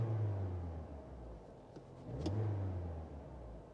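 A car engine is given gas while a diagnostic scanner is connected, so a low steady idle hum swells into a fuller, louder rev, dips, then rises again and holds, heard nearby with no talking.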